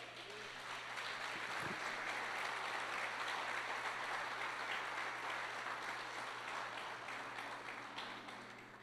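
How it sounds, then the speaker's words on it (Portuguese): Steady applause from a church congregation fills the space, a broad wash of clapping that holds evenly throughout with a faint low hum beneath. "Você pode aplaudir Jesus por isso?"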